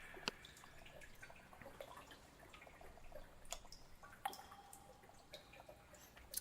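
Water dripping inside a very leaky church in the video game Mudlarks: faint, sparse plinking drops at uneven intervals over a soft watery background, with no voices.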